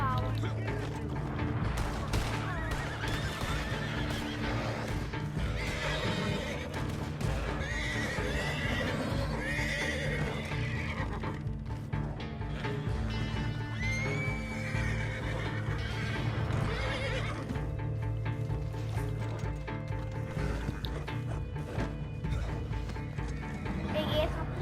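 A horse in the video game Red Dead Redemption 2 Online whinnies and neighs repeatedly while hooves clop, under a dense, loud game soundscape with occasional mechanical clicks and distant gunfire.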